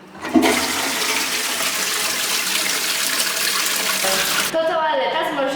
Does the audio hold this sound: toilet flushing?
yes